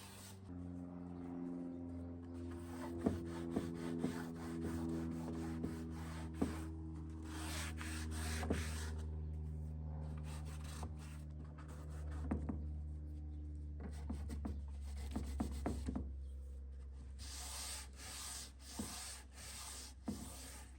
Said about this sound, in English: I'm using my sander just to do a very basic scuff sand.